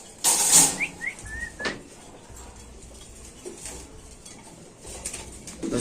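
A few short pigeon calls and a sharp whistle-like chirp early on, then a quieter stretch of faint background rustle and clinks, at a pigeon farm.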